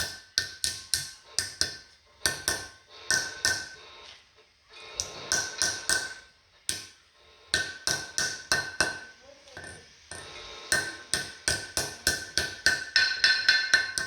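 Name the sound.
small hammer tapping seal into Mustang disc brake hub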